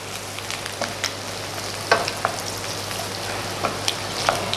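Shimeji mushrooms stir-fry in a pan for a miso butter pasta, giving a soft, continuous sizzle with scattered light clicks and scrapes of stirring, fairly quiet and with no talk.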